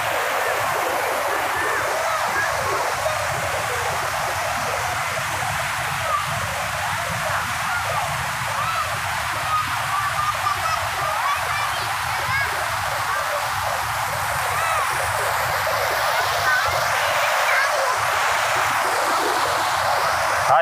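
Swollen forest river Kozhikkarai in the Nilgiris hills of the Western Ghats, a steady loud rush of floodwater roaring without pause throughout.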